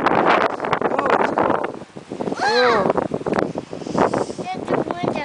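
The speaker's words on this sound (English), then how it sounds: "The wind just blows." Strong wind blows outdoors in the snow, buffeting the microphone with loud, rough gusts while voices speak and exclaim over it.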